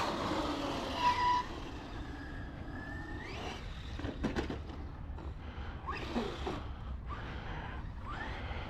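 V2.5 Kraton RC truck with a center diff driving around a track: a faint electric motor whine that rises and falls, with scattered bumps and scrapes as it crosses rough ground, heard from a distance.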